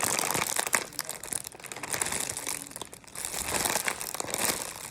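A thin plastic baggie holding a loaf of sourdough bread crinkles and crackles steadily up close, a dense, continuous rustling handled throughout with no voices.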